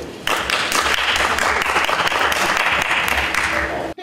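Keelung's mayor and city officials applaud warmly in a city council session, a sustained burst of dense clapping that starts suddenly and holds steady until it cuts off.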